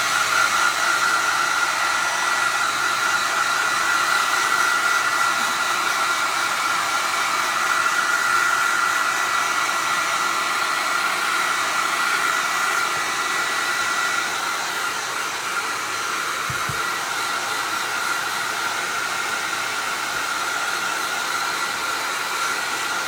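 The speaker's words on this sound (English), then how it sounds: "So I'm just using my hair dryer." A handheld hair dryer blows steadily on plastic craft pieces for picnic decor, a loud continuous whooshing hiss with an even motor hum that runs nearly unbroken throughout, with no talking.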